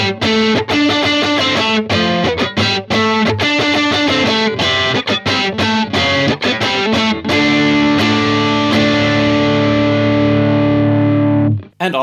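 A Fender Vintera 50s Telecaster Modified on its neck pickup runs through a compressor and an OCD overdrive, playing loud, choppy distorted chords and then a final sustained chord that rings out and fades. No one speaks.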